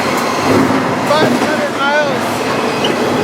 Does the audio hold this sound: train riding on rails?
yes